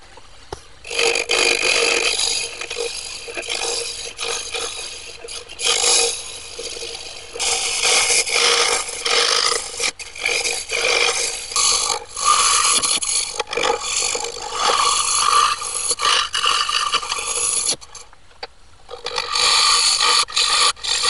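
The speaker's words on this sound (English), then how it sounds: "I'm just going to start my hollowing tool." A hollowing tool cuts into wood turning on a lathe while a funeral urn takes shape, producing a loud rough scraping and rattling that runs in long bursts with a few short pauses.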